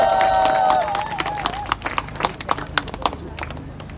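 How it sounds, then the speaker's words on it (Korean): Audience applause with scattered claps and some cheering at a Korean church-movement rally in Daejeon, building from a brief held tone into sharp, uneven clapping peaks. "자, 대전을 위해서 박수 한번 드리겠습니다."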